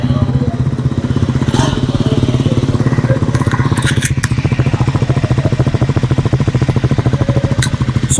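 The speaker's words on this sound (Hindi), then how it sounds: "मैं क्विकली आपको इसका एग्जॉस्ट नोट भी सुना देता हूँ" A 2025 Triumph Scrambler 400 XC dual-barrel exhaust thumps with a steady, deep, throbbing beat close up, plus occasional light clicks and clatter on top.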